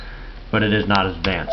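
A telephone nearby sounds short dialing tones during a computer demonstration, mixed in under ongoing speech.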